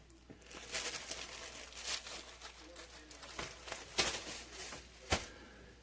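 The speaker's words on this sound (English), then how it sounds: "Sorry for the crinkling." Plastic food packaging crinkles and rustles in soft, uneven bursts close by, with a couple of sharper crackles near the end.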